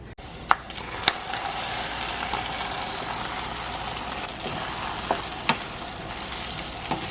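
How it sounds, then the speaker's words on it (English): Eggs and Spam sizzling in a frying pan, a steady close frying hiss with occasional sharp clicks of a utensil stirring against the pan, with no talking. "So I'm gonna add this back into my pan, and then I'll add my eggs."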